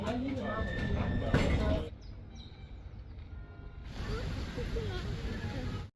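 A subway train moves through the Gothenburg metro with a steady low rumble and hiss, a quieter lull midway, then the rolling noise building back up, close and fairly loud.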